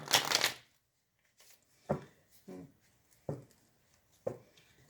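Tarot cards are riffled in a quick burst, followed by several separate softer shuffles and taps spaced about a second apart, close by with no talking.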